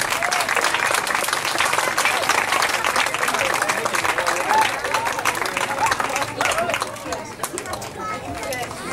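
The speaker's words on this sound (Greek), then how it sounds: "Ένα ζεστό χειροκρότημα." Continuous, full audience applause welcomes a children's choir onto the stage, many hands clapping steadily for nearly nine seconds with crowd murmur and voices mixed underneath.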